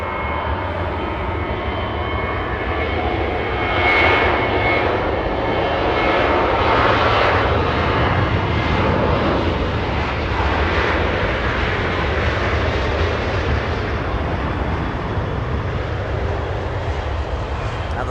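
A Delta Airlines jet departs runway 24 left at LAX as a loud, continuous engine roar that swells and holds steady for the whole stretch, with no talking.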